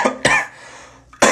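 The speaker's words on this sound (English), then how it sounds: "I've had this cough since it rained here last week" A person with a lingering cough lets out a couple of close, rough coughs, then another loud cough after a short breathy pause.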